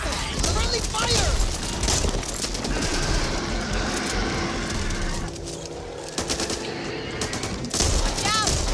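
Friendly fire in the zombie shooter Back 4 Blood sounds as loud rapid automatic gunfire, with bursts and repeated shots running throughout while players talk over it.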